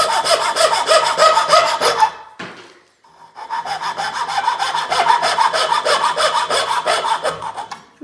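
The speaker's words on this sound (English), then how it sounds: "So the coping saw will just relieve the little bit out there." A coping saw cutting wood in a small workshop: rapid, rhythmic back-and-forth strokes, close and fairly loud, with a brief pause near the middle before the sawing resumes steadily.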